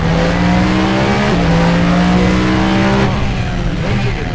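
The world's loudest car roaring under hard driving, its engine holding a loud, sustained harmonic drone with brief shifts in pitch and tires under load, close and continuous throughout with no voices.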